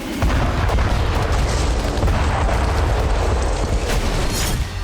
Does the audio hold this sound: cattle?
no